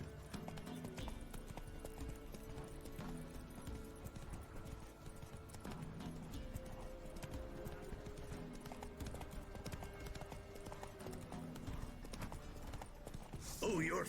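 In Witcher 3, the horse Roach gallops with a steady, rhythmic clip-clop of hooves under a busy game soundtrack and effects, with voices present.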